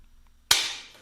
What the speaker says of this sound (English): Crazy fucking sound coming in my ear. This fucking stupid hammering.